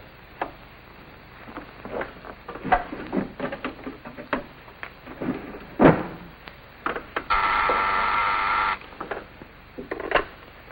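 A 1952 telephone being dialed for a call, with scattered clicks and rattles around a steady burst of line tone in the middle, close and moderately quiet.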